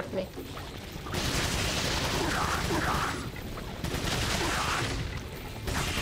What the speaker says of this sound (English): the TMP's not here for ammo efficiency. It's here for shooting the fuck out of people